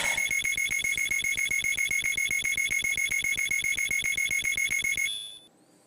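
Rapid electronic beeping, a long run of evenly spaced shrill pulses at a steady fast rhythm that stops abruptly near the end, clear and alone with no talking.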